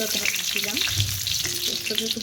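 Food sizzles and crackles in a hot pan, with occasional scraping of a spoon stirring it.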